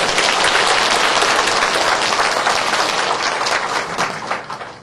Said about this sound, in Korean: 우리 장호실에서 어렵게 얘기하는 우리 장호들 위해서 우리 박수를 격려 한번 할까요?